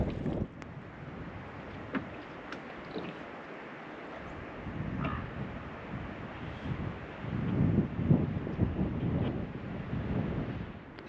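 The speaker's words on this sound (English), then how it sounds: "As irritating as the wind is today, it is helping to keep the bugs away" Gusty wind blows across Medicine Lake and buffets the microphone, a loud, continuous low roar that swells and eases in waves, with light water sounds and no talking.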